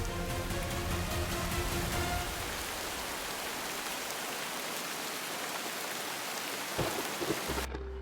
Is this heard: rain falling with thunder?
yes